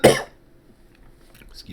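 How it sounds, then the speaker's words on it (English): A single sharp cough at close range from a man still recovering from COVID, followed by quiet and a faint throat sound at the end. "Sorry, I still have a cough from COVID."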